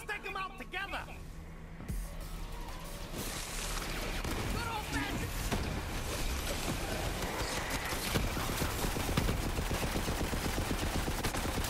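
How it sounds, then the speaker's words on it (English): An SMG firing in Borderlands 3, rapid dense bursts of automatic gunfire that persist loud and continuous amid a busy mix of game effects. "this SMG I grabbed is pretty sick"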